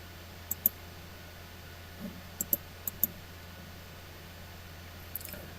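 Computer mouse clicks on a Windows 10 PC during disk management, sharp isolated clicks in pairs and singles spread across several seconds over a quiet background hum.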